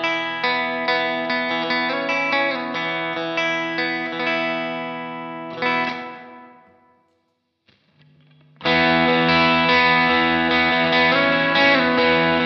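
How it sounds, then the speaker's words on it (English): Macmull S-Classic electric guitar plugged straight into a Silverface Fender Twin Reverb amp, played clean with ringing chords and arpeggios, a brief pause near the middle, then full strummed chords resuming loudly. "So the Macmull S-Classic straight into the twin sounds like this."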